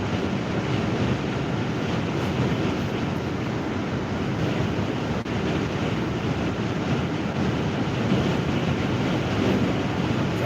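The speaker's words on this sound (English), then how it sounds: "It's hard to control with this wind and stuff." Strong wind buffets a car driving on a cold, rainy, windy day, a steady loud roar of rushing air and road noise that carries on unbroken with no talk.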